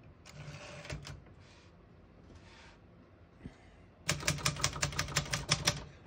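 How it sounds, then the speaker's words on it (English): Keys struck on a 1965 Singer Scholastic portable typewriter, a few scattered clacks and soft mechanical shuffles, then a quick run of sharp, evenly spaced keystrokes, close and clear with no talk. "As you can see, all the keys type nice and none of them skip or stick."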